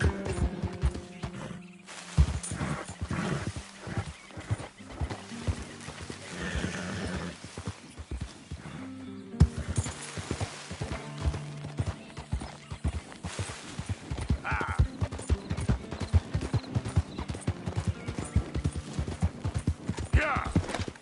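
A horse gallops in the video game Red Dead Redemption 2, with fast, dense hoofbeats pounding throughout, occasional whinnies, and a voice urging it on over a busy game soundscape.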